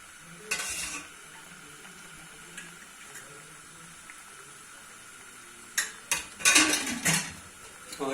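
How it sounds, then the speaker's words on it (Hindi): Khichdi stirred in a pot with oil, a spoon scraping and clinking against metal in a few short bursts near the start and a busier run toward the end, with quiet gaps between. "और खिचड़ी को थोड़ी देर के लिए इसे हिला के और ढक देते हैं।"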